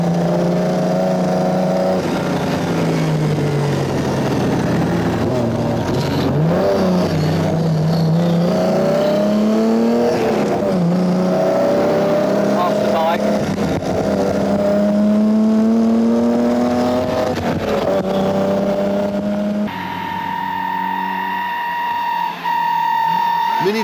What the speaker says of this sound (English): determined to put his Austin Healey through its paces